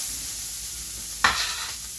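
Chopped onion hits hot oxtail fat in a pan over medium heat, a sudden burst of sizzle at about the midpoint that then settles into a steady soft frying hiss, close and alone.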